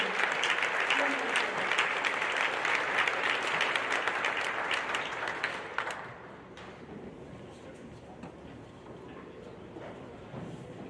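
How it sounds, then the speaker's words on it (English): A large audience at a high school awards night claps for teachers and award winners, dense and loud for about six seconds before dropping to a quieter room with murmuring voices and a few scattered claps. "One more round of applause."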